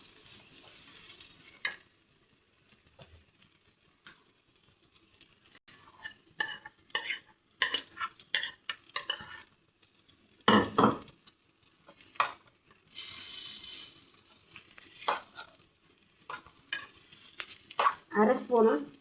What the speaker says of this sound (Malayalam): ഇനി വറുത്തെടുത്ത് ചെമ്മീൻ ഇതിലേക്ക് ചേർത്ത് കൊടുക്കാം.